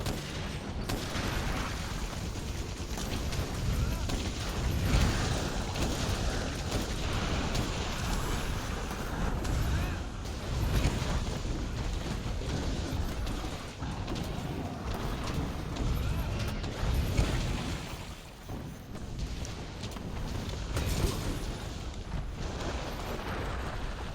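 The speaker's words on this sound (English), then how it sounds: "What hit me even? Oh, an explosion." Explosions in the action game Monster Hunter World, a dense, continuous roar of booming blasts and rumbling fire, loud and unbroken throughout with no clear gaps.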